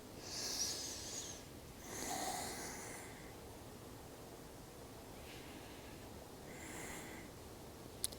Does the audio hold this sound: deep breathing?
yes